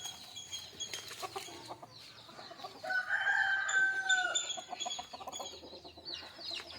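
Country chickens cluck and call in a farmyard in the early morning, several overlapping birds with one longer crowing-like call in the middle, fairly close and with no talking.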